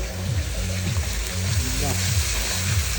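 Chicken curry masala fries and is stirred in a pan. A loud, continuous sizzle carries rhythmic stirring strokes, and a voice talks over the cooking.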